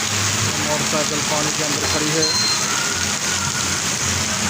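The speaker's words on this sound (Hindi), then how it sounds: "आज तो बारिश रुकने का नाम नहीं ले रही, पहले से और ज़्यादा तेज़ हो गई है।" Dense, steady rain hisses loudly throughout while someone talks over it, with a faint engine rumble underneath.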